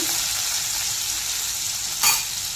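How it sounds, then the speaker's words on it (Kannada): Garlic and green chillies crackle and sizzle in oil over a medium flame, a continuous close hiss with one brief louder stir near the end, no voices. "ಸ್ವಲ್ಪ ಬೆಳ್ಳುಳ್ಳಿದು ಹಸಿ ವಾಸನೆ ಹೋಗೋವರೆಗೂ ನಾವು ಫ್ರೈ ಮಾಡ್ಕೋಬೇಕಾಗುತ್ತೆ"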